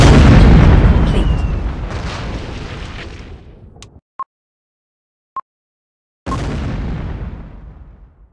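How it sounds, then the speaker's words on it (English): Heavy airstrike explosions boom in MechWarrior 2: Mercenaries, a loud blast decaying over several seconds, two short beeps in near silence, then another big rumbling explosion that fades out. "Airstrike confirmed. Commencing countdown."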